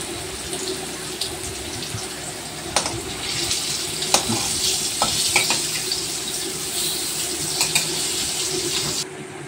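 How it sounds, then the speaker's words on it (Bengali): Pumpkin slices sizzle and spit steadily in a hot pan of oil, a continuous close-up frying hiss broken by sharp crackles and pops, alone without any voices. "এটা কি হচ্ছে? কুমড়ো ভাজা।"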